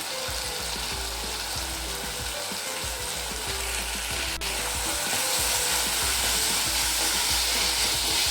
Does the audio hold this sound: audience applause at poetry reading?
no